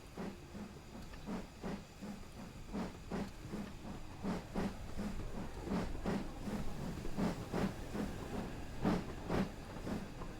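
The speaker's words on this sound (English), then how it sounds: "At least I've steam going through my systems again." Steam hisses rhythmically from a steam locomotive, repeated sharp bursts in a steady chuffing cadence over a constant background hiss, fairly close and without talk.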